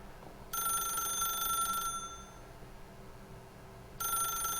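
A telephone rings in The Stanley Parable video game: two bright electronic ring bursts separated by a pause, clear over a faint room hum, with no talk.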